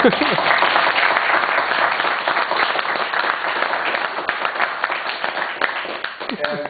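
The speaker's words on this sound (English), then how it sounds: "And we will give John Bak one more round of applause." A conference audience at an academic gathering in Lisbon gives a sustained round of applause, many hands clapping in a dense, even wash that carries on for several seconds, with faint voices mixed in.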